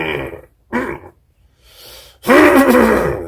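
A man coughs several times in a room while playing through a 50-watt Fender LT50 guitar amp, rough throaty bursts in a halting sequence ending with a longer, louder hacking cough.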